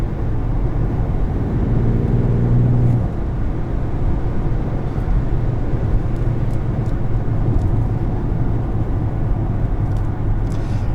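A 2020 BMW X4 M40i pulls hard under acceleration, a steady loud engine and road roar filling the cabin, with a rising engine tone in the first few seconds before settling into constant drive noise.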